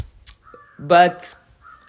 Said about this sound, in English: there's a bird outside my window